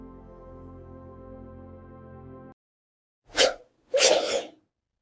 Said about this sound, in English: Sneezing forcefully clears irritants from the nose to protect the airway.